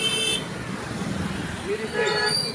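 Busy street traffic with car horns tooting at the start and again near the end over a constant roadway rumble, while people talk close by.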